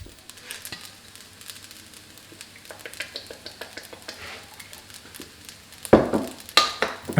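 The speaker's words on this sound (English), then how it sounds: "And fry the rice on high heat for a few minutes." Rice seasoned with salt and sesame oil fries on high heat in a pan, a soft crackling sizzle broken by frequent scrapes and taps of stirring, with louder clattering strokes near the end.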